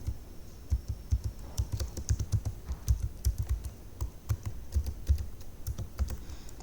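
A computer keyboard clatters as code is typed for an Arduino password door lock project, with quick irregular bursts of close keystrokes and no speech.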